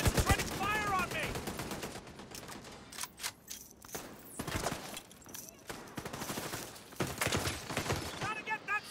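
Gunfire in Tom Clancy's The Division 2 comes as loud, close bursts of rapid shots and single cracks, with in-game voices speaking between the volleys.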